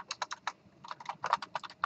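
Quick bursts of keystrokes on a computer keyboard as code is typed during a programming lecture, clustered taps in irregular runs, close and clear with no talking.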